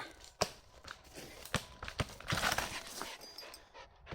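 A dog pants after bringing back a football during a walk through woods, with quick rhythmic breaths and rustling close by, plus a few sharp crinkling and tearing noises mixed in.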